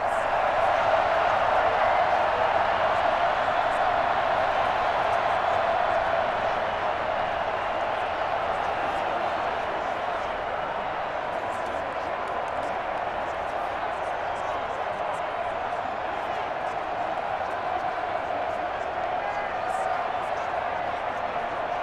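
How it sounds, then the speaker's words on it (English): Stadium crowd cheering in the video game Madden 21 during an NFL football game, a steady broad roar of a large crowd that holds loud throughout, with commentators talking over it. "The crowd getting into it as we come up on a big 3rd down."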